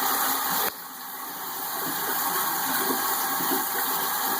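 Tap water runs steadily from a Moen kitchen faucet with a replaced cartridge while it is left on to warm up, a continuous close hiss and splash that settles slightly quieter after a brief shift in flow.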